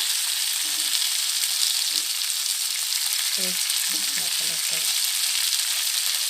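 Pepper fish frying on a low flame in a pan as the pieces are turned one by one, with a dense, continuous hiss of oil and a few soft low thumps underneath.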